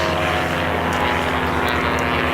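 Christen Eagle biplanes race overhead at the Reno Air Races, their propeller engines making a loud continuous droning roar with a throbbing pulse, close and filling the scene without talk.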